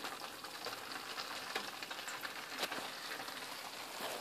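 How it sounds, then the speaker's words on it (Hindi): Pulao rice with coriander is tossed in a hot pan, a soft continuous sizzle with light scraping and rustling, quiet and close with no talking. "और फिर मैं इसको टॉस करती हूँ"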